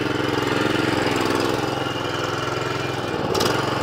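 A refurbished rotary lawn mower's small petrol engine idles after a pull start with the choke on, a steady loud close chugging throb that barely wavers, with no talk over it.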